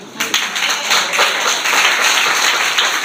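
A church congregation applauding enthusiastically, loud close clapping that starts abruptly and keeps a fast, dense rhythm of individual hand claps throughout.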